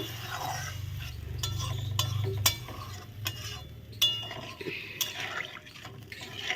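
Quiet stirring of a Bengali banana-flower kofta curry after water is added, with a spoon scraping and clinking against the pot at irregular intervals over a soft bubbling, liquid background.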